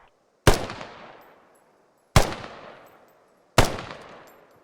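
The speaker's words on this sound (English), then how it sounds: "Designated marksmen are issued with a high caliber rifle designed to reach out and touch the enemy from further ranges than a standard issue rifle." Designated marksman's high-caliber rifle in the military shooter Squad, three loud, sharp single shots spaced well apart, each followed by a long echoing tail.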